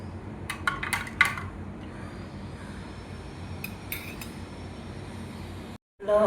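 A spoon stirs fennel sharbat with cold fridge water in a glass, giving a few quick clinks against the glass near the start and again midway, quiet in between.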